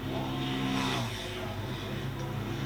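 Harley Davidson XR1200 race motorcycles, Stratstone Racing bike number 17 among them, lapping Cadwell Park circuit, a steady engine drone with harmonic whine rising and falling as the pack passes, heard at moderate distance with little else over it.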